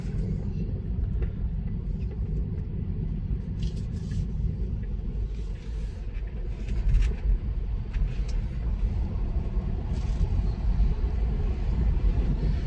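Steady low rumbling tire and road noise inside a 2024 Tesla Model 3 on Michelin 18-inch tires driving on a wet road in the rain, continuous and even throughout with no voices.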